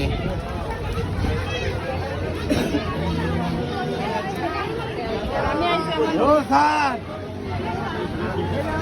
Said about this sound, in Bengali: ওখানে যাতা ভিড়